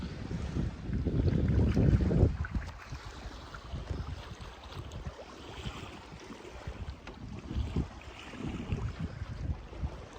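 A sailboat sails under genoa alone with the engine off in about 11 knots of wind off Greece, heard as steady wind buffeting and water rushing past the hull, with louder gusts early and no motor.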